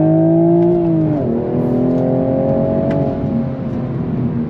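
A 2024 Toyota Supra 45th Anniversary Edition pulls hard on throttle in second gear, its engine a loud, close, steady drone that dips briefly in pitch and then holds and climbs slightly.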